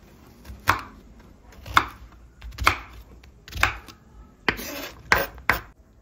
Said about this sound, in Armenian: Ահա այսպիսի շերտիկների վերածելուց հետո կտրատեմ քառակուսիների։